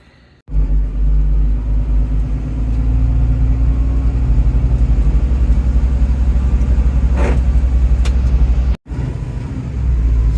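Truck engine and road noise on a long drive through Nevada toward Las Vegas, a steady loud low rumble of cab and tires that starts abruptly and continues for about ten seconds with a short break near the end.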